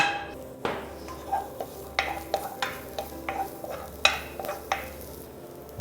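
Ingredients stir-fry in a little oil in a pot as the base for stock for a Yeonpyeong blue crab risotto, with repeated clacking spatula strokes against the pan over a soft, steady sizzle.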